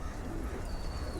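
Pigeons in a loft where nesting birds sit on eggs, among them a silver flying pigeon, give soft, low cooing that runs steadily and faintly through the moment under a hushed background.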